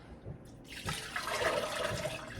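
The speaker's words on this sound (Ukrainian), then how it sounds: "Наливаємо просто сюди водички." Water pours steadily into a flower vase, a soft continuous splashing that starts after a brief moment and keeps running.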